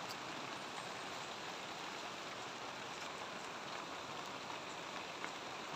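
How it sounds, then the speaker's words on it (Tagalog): Steady, dense rain hisses and patters near an old house, constant and even throughout with no voices. "nabutan tayo ng ulan dito"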